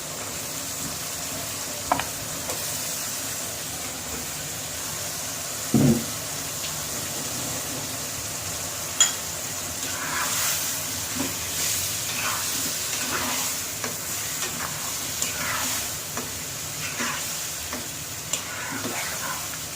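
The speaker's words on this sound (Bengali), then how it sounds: "মাংসের সাথে ভালো করে মশলাগুলি মিলাবো, ভালোভাবে নাড়বো" Beef frying in a pan with spices while being stirred, a steady sizzle under scattered scrapes and clanks of the utensil, with a few louder knocks.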